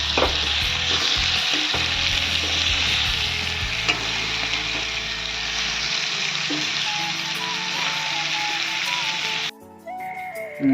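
Chopped tomatoes fry in a pan for an Assamese-style chicken curry, giving a loud, steady sizzle with stirring scrapes throughout; the sizzle drops away abruptly near the end, leaving quieter clinks and a faint whistling tone.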